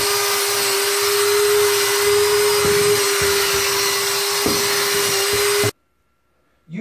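A power drill with a corner-and-edge scrub brush whines steadily with a rough scrubbing rumble underneath on bathroom tile and grout, continuous and close, then cuts off abruptly near the end.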